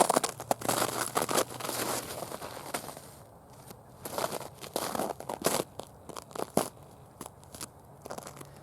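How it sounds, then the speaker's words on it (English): Footsteps crunching on crunchy, icy snow outdoors, with irregular close crackling crunches in bursts and quieter gaps between them, no talk over them. "I'm going to be throwing from crunchy snow"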